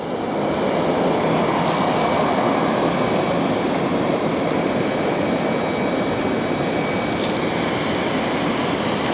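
An American Airlines jet airliner on inbound approach at Philadelphia International Airport makes a loud, steady, broadband engine roar that holds near for the whole stretch with no talking.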